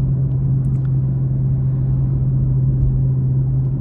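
A 2022 BMW M240i hums at steady cruise, a constant low engine and exhaust drone with road rumble from inside the car.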